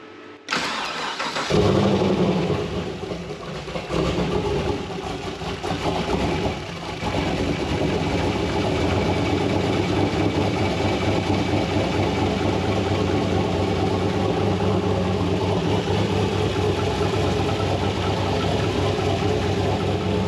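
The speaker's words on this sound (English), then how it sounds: "Motor sounds good, there's no knocks or anything yet." A turbocharged LS1 V8 engine in a Nissan Patrol GU ute cranks and fires up loudly nearby, revs briefly, then settles into a steady, throaty idle with no knocking, continuing without any voices.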